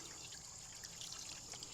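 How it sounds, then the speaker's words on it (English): Water trickling and pouring steadily into a pump casing to prime it for a drought-season well setup, a soft continuous splash with faint bubbling throughout, close by and fairly quiet. "I'm just going to pour the water in there"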